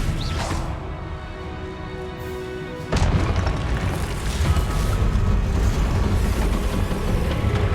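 A Confringo spell explosion in Hogwarts Legacy: a sudden deep boom that breaks in partway through and leaves a loud, sustained rumbling wash, with no talking.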